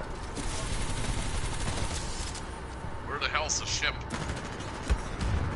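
Enemy gunfire in the video game Team Fortress 2, fired from a building as a cluster of sharp shots and bursts over a constant background din, with voices nearby.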